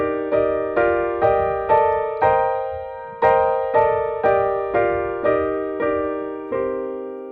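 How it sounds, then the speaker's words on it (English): Jazz scale played in locked hands style, likely on piano: a steady sequence of about a dozen block-chord strikes, each decaying before the next, clear and close with no talking. "now I can begin practicing the entire scale using a locked hands approach"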